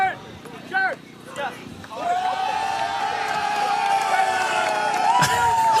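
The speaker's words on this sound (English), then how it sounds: "It's a big applause." Crowd at a community cup grand final football match cheers and applauds as a substitute comes on, a broad sustained roar building from about two seconds, with a commentator talking over the start.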